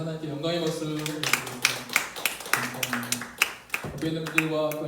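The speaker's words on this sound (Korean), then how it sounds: "우리의 찬양과 기도를 받으신 하나님께 영광의 박수를 드립니다." A church congregation claps at the close of a worship service, a handful of sharp irregular claps scattered over sustained organ-like chords, with no steady burst of applause.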